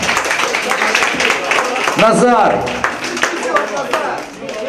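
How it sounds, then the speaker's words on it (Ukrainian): Wedding guests applaud at a reception, a burst of clapping heard under a host's voice speaking over it. "Ще раз оплески."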